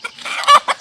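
A rooster clucks in short bursts, a few close, fairly loud calls clustered over less than a second, set in a Konkan village ritual offering.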